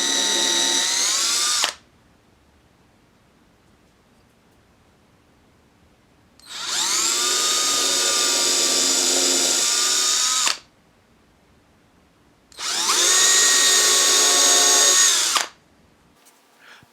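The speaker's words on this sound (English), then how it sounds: "I'm going to drill pilot holes for each of the mounting screws" A power drill bores pilot holes for the screws of a 4-string Gato bridge on a bass guitar. It whines in three separate loud bursts of a few seconds each, close up, with quiet gaps between them.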